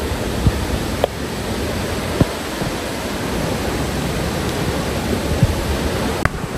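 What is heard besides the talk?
waterfall near tea garden, Kandy to Nuwara Eliya road, Sri Lanka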